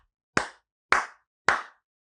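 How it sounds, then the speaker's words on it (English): Three slow, deliberate hand claps, evenly spaced about half a second apart, each sharp and close with a short decay into silence. "This is my slow clap for all people who have ever put a cat on a leash."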